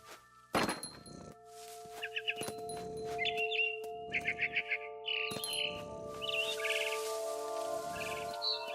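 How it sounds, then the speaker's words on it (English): A barn swallow chirps in short twittering bursts in the video game What Remains of Edith Finch, mixed with heavy thunks and soft rustling footsteps over a steady low tonal drone. "It was a barn swallow going back to her nest."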